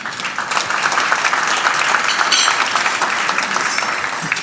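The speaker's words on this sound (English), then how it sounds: "I know some of you have been clapping with a little more enthusiasm than others" Steady, dense applause from a large audience at a State of the City address in Bakersfield, California, sustained at an even, loud level for the full stretch without any voices.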